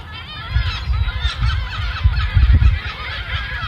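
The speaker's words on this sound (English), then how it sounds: "I've got a sound effect of the gulls." Gulls call in a sound effect: a close, fairly loud flock of overlapping squawks and honking cries over a low rumbling background.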